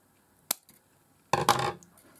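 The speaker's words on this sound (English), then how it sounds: "And then we just cut off the excess" Excess wire snipped off after wrapping it during a model build of a Back to the Future DeLorean, heard as a sharp single click followed by a louder crunchy cut lasting under half a second, close and otherwise quiet.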